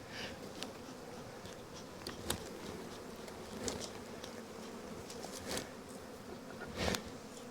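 Bees hum constantly around an opened hive as honey is harvested on a Greek island, a dense, close buzz that swells briefly as individual insects pass by, with no voices.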